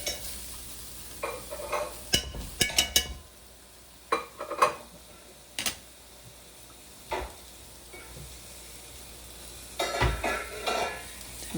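Leftover cooked rice frying in oil in a pot, stirred with a utensil: intermittent scraping and clanking strokes over a low, continuous sizzle, with quiet pauses between bursts of stirring.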